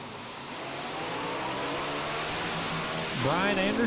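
Drag racing cars launch in a heads-up run at a North vs South shootout at Maryland International Raceway, a steady engine roar swelling into a loud rising rev burst near the end, with voices talking over it.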